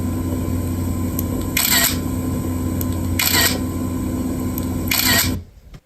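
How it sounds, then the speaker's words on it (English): Canon AE-1 film SLR shutter fired three times at even intervals, each a sharp mechanical clack over a steady low room hum, alone and fairly close. "the sound his Canon AE-1 made when its shutter was pressed"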